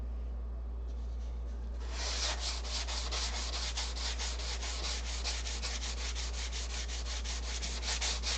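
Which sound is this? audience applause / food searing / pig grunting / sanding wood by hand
sanding wood by hand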